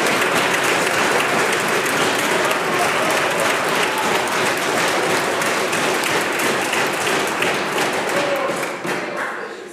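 Members of the British Columbia legislature applaud in the chamber, a dense, loud, sustained wash of clapping and desk thumping that fades slightly at the end.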